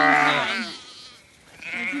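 Sheep and lambs in a grassy field bleat loudly and close by, one long wavering bleat and then a second call after a short pause.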